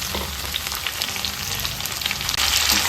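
Tomato frying in hot oil for an egg curry gravy gives a loud, dense, continuous crackling sizzle, heard close and alone.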